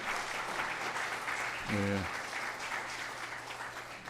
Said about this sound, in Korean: 한번 이제 저들에게서 박수로 환영합니다